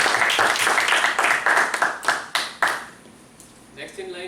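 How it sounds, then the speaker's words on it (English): A small audience at a Toastmasters speaking event claps in a brief round of applause, the claps thinning out and stopping partway through before faint voices take over. "A big round of applause."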